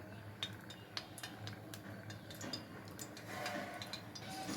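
A kadai set on a stove and oil poured in while preparing dry prawn and ridge gourd curry, heard as a run of light metallic clinks and taps close by against a steady low background hum, with no talking.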